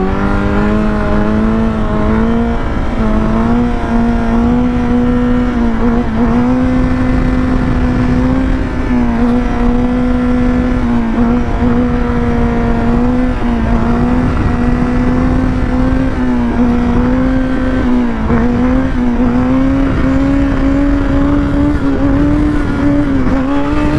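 A 2019 Honda CBR1000RR SP sport bike engine revs loud and close, holding a steady high drone with rising and falling pitch, alone without talk.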